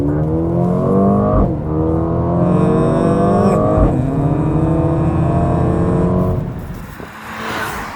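Inside the cabin of a 2022 Mercedes-AMG CLA 35, the engine revs hard and climbs through several gear shifts, a loud and close rising drone with brief dips between gears and no talk.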